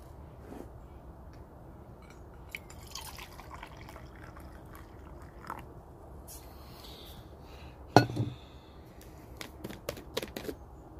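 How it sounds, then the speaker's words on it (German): Water is poured for coffee during outdoor camp cooking: a faint, quiet trickle and drip with a few light clicks and knocks from the cookware, and one sharper clink near the end. "So, noch Wasser für Kaffee."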